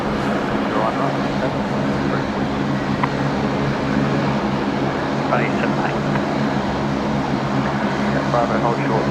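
Busy airport apron at Brisbane with a steady broadband roar of aircraft engines as a Rex turboprop taxis close by, a constant loud drone with faint radio-style voices scattered through it.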